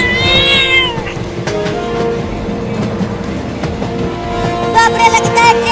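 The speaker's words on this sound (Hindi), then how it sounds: "ये खतरनाक बिल्ली मुझे काट लेगी" A cat meows and yowls loudly in drawn-out, wavering cries near the start and again at the end, with rumbling vehicle-like noise and other sounds underneath in a comedy sketch.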